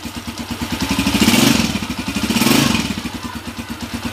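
A freshly overhauled Honda TMX155 motorcycle engine idles steadily with an even, rhythmic putter, its pitch swelling gently twice before settling back into a smooth idle.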